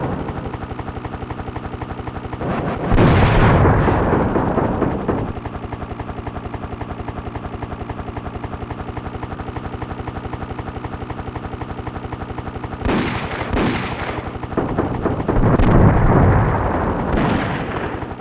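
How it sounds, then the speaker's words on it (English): Desert Strike: Return to the Gulf on SNES plays a continuous buzzing helicopter rotor loop, broken by two loud bursts of gunfire and explosions, all close and alone with no talk. "it's just the sound effects, just the chopper, the guns, the enemies"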